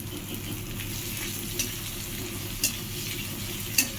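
Taro and onion fry in a pan with a constant soft sizzle, broken by a few light clicks of a utensil stirring.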